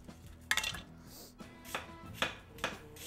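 A knife chops onions on a cutting board for French onion soup, landing several crisp, irregular thuds spaced about half a second apart, close up in a quiet kitchen.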